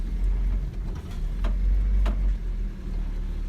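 A Datsun with a four-speed manual gearbox rolls on clutch alone with no throttle, its engine a low steady rumble with slight dips as if close to stalling, heard from inside the car.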